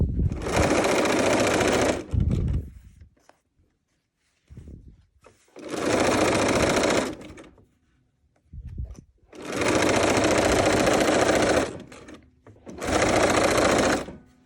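A sewing machine stitches a pocket seam on a fabric Christmas countdown calendar, running in four loud, close bursts of whirring stitching separated by brief quiet pauses.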